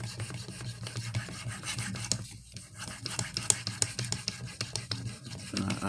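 Knife edge dragged over an 800 grit Venev stone on an Edge Pro clone sharpener, a close, continuous gritty rasp in repeated strokes with short pauses, with no talk.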